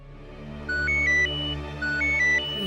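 A phone ringtone in a Hindi TV drama scene plays a short rising electronic melody of bright beeps, heard twice in a row and fairly clear, with no talking.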